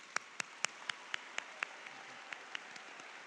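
Audience applause for graduates at a high school graduation ceremony, heard as sparse, faint individual claps spaced out over a few seconds, distant and thinning out toward the end.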